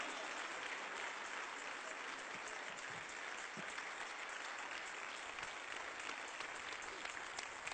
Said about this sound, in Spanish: Dele fuerte ese aplauso a Cristo.